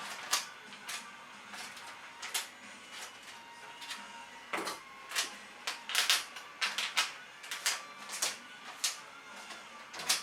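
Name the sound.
tape being cut for upcycled portfolio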